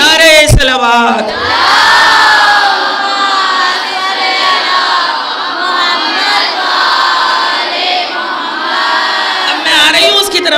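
A large mourning assembly at a majlis in Husainia Baitul Huzn, Dulhipur, raises the religious slogan Naara-e-Haidari, a loud, sustained massed chant of many voices filling the whole stretch, with a brief lone call at the start.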